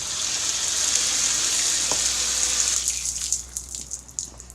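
Water sprays and gushes steadily from a loose OxiClean spin-clean brush attachment, a close hissing rush that breaks into irregular splashes and spurts as the flow falters.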